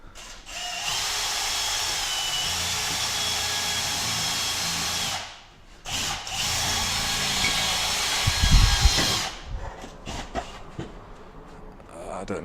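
A power drill bores through an outside wall to mount a 200W Philips LED security floodlight, running as a loud, steady whine for several seconds, pausing briefly, then starting again before trailing off into clatter and handling noise.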